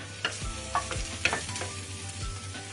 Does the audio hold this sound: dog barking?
no